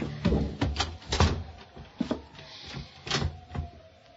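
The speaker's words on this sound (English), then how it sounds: "I pushed her body into the closet next to the body of Mr. Field and closed the door." A closet door closing in an old radio mystery drama: a sequence of wooden knocks, creaks and thuds, some sharp and some muffled, spaced irregularly over a few seconds in a narrow-band recording.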